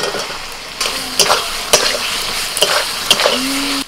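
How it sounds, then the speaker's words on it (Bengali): Fried potatoes stirred into a spice paste frying in a pan, a steady sizzle with repeated scraping strokes of a spatula against the pan and a few light metallic clinks, close and continuous. "মশলা কষানো হয়ে গেলে প্রথমে দিচ্ছি ভাজা আলু"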